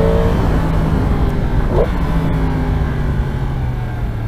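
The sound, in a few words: Yamaha MT-10 2022 motorcycle engine revving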